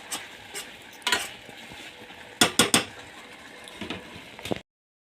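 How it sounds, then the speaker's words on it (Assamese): Maggi noodles and spice masala being stirred in a pan, with scraping clinks of the utensil against the metal in short bursts, loudest in a quick cluster midway, over a quiet kitchen background. "ভালকৈ এতিয়া লৰাই দিওঁ"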